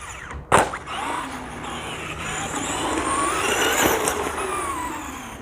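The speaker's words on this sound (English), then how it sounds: "I can actually hear that motor kind of breaking in a little bit too." A Traxxas Stampede 2WD RC truck's brushed motor whines steadily under continuous road noise as it runs on the street, after a short sharp knock at the start.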